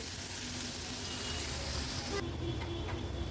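Chopped onion with crushed ginger and garlic sautéing in a pan over a low flame for Agri Koli-style mutton, a continuous soft sizzle and frying hiss throughout, quieter toward the end.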